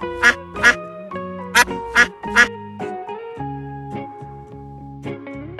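A duck gives a series of loud, nasal quacks, sharp and separate, scattered over the first seconds above soft melodic music that carries on alone afterward.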